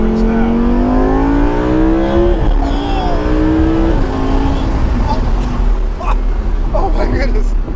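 Lamborghini Huracan Spyder engine accelerating hard in Corsa mode, a loud rising wail that climbs through several quick upshifts with sharp drops in pitch, then roars on as people exclaim over it.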